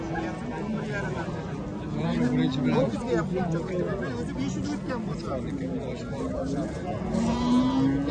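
Sheep at a crowded livestock market bleat now and then through a steady hubbub of voices, with people chattering close by throughout.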